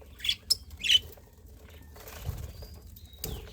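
Pet birds in a colony squawk while feeding, giving a few sharp close calls near the start and then softer, scattered chirps and rustling over a quiet background.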